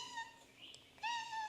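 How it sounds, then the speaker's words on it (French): A small cat gives two faint, high meows, one drawn out and one rising, separated by a brief quiet gap and heard alone at a close distance. "Oh, il y a le petit chat."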